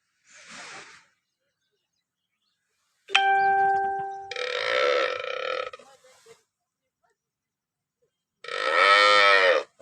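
Several loud, close cow moos from cattle in a shed come in separate bursts with quiet gaps between them, and a brief ringing tone sounds once.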